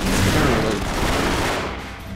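Dense, continuous burst of rapid gunfire from the video game No More Heroes, loud and booming throughout the short stretch with no talk over it.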